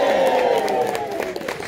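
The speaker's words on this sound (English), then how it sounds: "give a massive round of applause to your MC this evening" A theatre crowd at a comedy show claps and cheers for the MC, a brief dense burst of applause with a voice rising over it.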